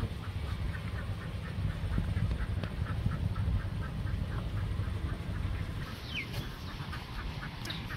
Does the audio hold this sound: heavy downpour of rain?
no